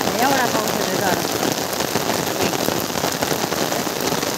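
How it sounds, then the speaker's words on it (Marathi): Heavy rain pours down in a steady, dense roar on a garden, continuous and close for the whole stretch, with no talk over it. "एवढा रपरपत पाऊस आला की जोरात बघा"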